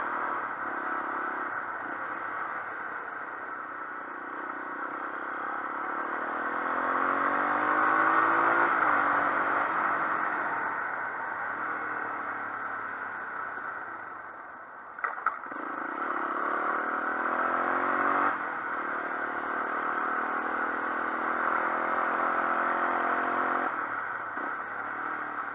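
A Japanese Honda XL 250R motorcycle engine, original and in good condition, runs steadily, its rev rising and falling in a smooth, mid-pitched drone with light mechanical clatter, close by.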